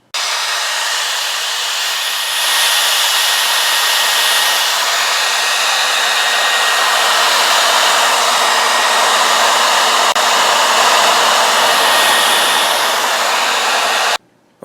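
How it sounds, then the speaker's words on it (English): A hair dryer blows hot air onto the corners of a UMIDIGI Bison smartphone screen to soften its glue, a loud steady whoosh with a thin whine that steps up in intensity early on and cuts off abruptly at the end. "So I'm going to use a hair dryer."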